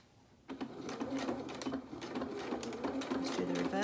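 A sewing machine starts up after a brief pause and stitches a quarter-inch seam on a small shirt, a close buzzing run of rapid needle strokes with slight speed changes.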